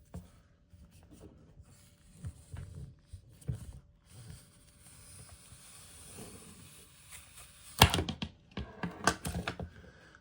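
A wiper blade renewal tool slices along a rubber windshield wiper blade, giving faint scraping and ticking at first, then a burst of sharp close clicks and scrapes near the end.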